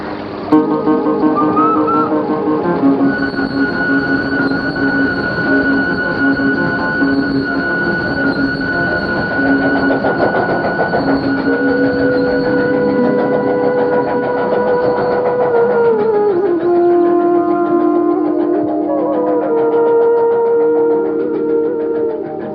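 A train pulls out of a station with loud, continuous rumbling. Long, drawn-out metallic wheel squeals glide up and down in pitch throughout, and the train stays close the whole time.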